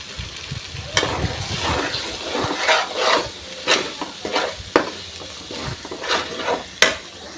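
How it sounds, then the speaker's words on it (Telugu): Spice powders, coriander, garam masala, chili, turmeric and salt, stirred into a sizzling boti curry in a pan, with repeated close spoon scrapes and clacks over a steady frying hiss, no talk. "కర్రీలోకి వేసుకొని మంచిగా మిక్స్ చేసేసుకోవాలి."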